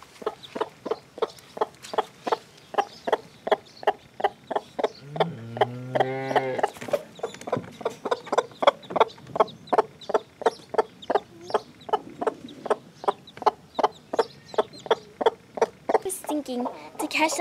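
A hen clucks in a steady run of short, evenly spaced calls close by while her newly hatched chick stays near, and a brief higher, drawn-out cry breaks in partway through.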